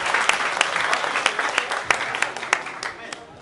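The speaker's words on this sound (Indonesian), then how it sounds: "Kita beri tepuk tangan untuk Rame Tababe" Audience applause at a live comedy show, a dense wash of clapping with sharp individual claps standing out, loud and continuous with voices mixed in among the crowd.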